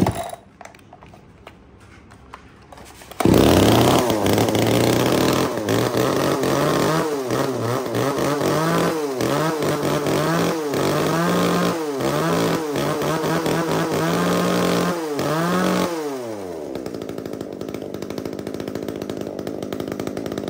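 A used Japanese-market Makita chainsaw fires up after a few quiet seconds, runs loudly with repeated revving surges for about thirteen seconds, then shuts off into near silence.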